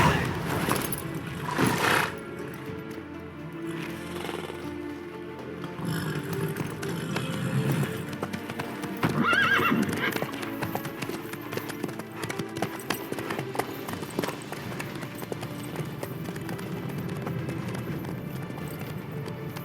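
Horse hooves clip-clop at a steady gallop in The Witcher 3: Wild Hunt, close and continuous for the whole stretch over a dense bed of game ambience and music, with no clear speech.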